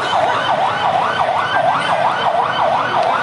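A fire engine siren wails loudly and steadily at a market fire, rising and falling in a smooth, continuous cycle with motor noise beneath it.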